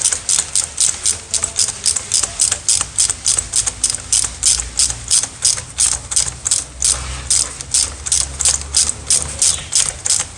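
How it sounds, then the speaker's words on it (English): A hand ratchet cranks steadily on a Kia Rio during spark plug replacement, fastening the ignition coils. It gives a rapid, even run of sharp clicks, close and alone, with a faint low hum underneath. "So I am going to tie them with my ratchet."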